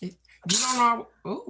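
A single loud sneeze bursts out between bits of conversation, with people talking just before and right after it.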